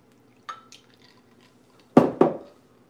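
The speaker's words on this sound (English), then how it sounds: "here I have some ice, and now I'm going to pour my sorrel pineapple drink." Sorrel pineapple drink poured over ice in a glass: a faint clink, then two short, close splashy pours with liquid sloshing onto the cubes, no voices.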